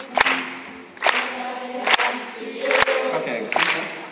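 Audience applause at a live event, sharp handclaps swelling in repeated bursts roughly every second, each loud and close with a crowd rumble between.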